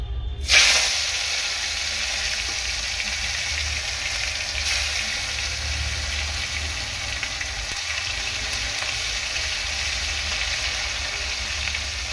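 Tomato dropped into hot oil for a ghugni curry, a sudden burst of frying followed by a strong, steady sizzle and hiss that holds evenly throughout.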